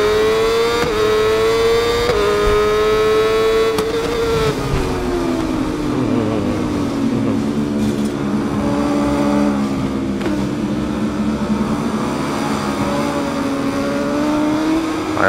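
Superbike racing engines, including a BMW World Superbike machine, scream continuously at the Misano World Circuit Marco Simoncelli. The loud, close engine note dips and climbs as the bikes shift and accelerate, and no one speaks.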